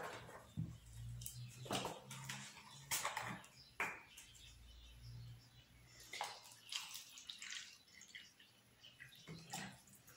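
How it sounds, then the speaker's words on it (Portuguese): Water pours into a container for a flotation demonstration in a classroom, with intermittent splashes, trickles and faint clinks of glassware coming in bursts over about ten seconds, fairly quiet and with no speech. "enchi com água"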